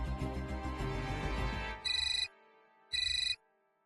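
A phone rings while a call is placed in a Marathi TV serial scene: a melodic ringtone plays, then cuts to two short repeated electronic ringing bursts separated by silence.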